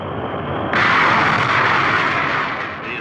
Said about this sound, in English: The escape rocket takes the capsule away from the booster.